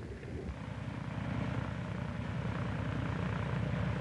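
An F6F Hellcat fighter's radial aircraft engine near a landing mat: a steady, close, low throbbing propeller drone that holds at an even level throughout, with no voices.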